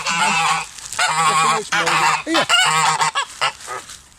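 Geese honk loudly and repeatedly at close range, joined by other ducks and waterfowl crowding around, with someone briefly speaking over the noisy flock.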